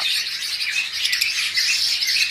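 Pet budgerigars, forpus and lovebirds in a dense, continuous chorus of high chirps and squawks, close and fairly loud, with no gaps.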